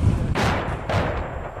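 Two muffled explosions from attacks in the war in Ukraine, broad dull blasts about half a second apart with a rumbling tail, heard alone at moderate distance.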